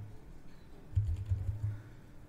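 Typing on a computer keyboard, a short run of soft, close key clicks in quick succession, quiet and alone.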